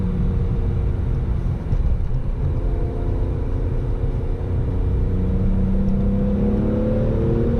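A BMW E46 M3 with a manual gearbox pulls hard on throttle from inside the cabin, its engine drone climbing steadily in pitch over a constant road rumble, no talking.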